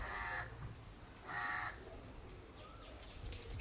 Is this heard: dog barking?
no